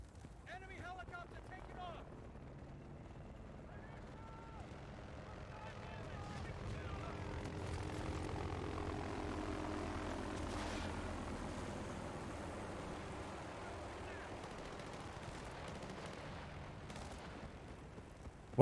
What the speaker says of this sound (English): Enemy helicopter taking off!